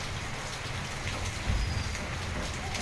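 Steady, moderate rain during an evening thunderstorm in Daddi village, a constant broadband wash with a brief low rumble partway through and no talking.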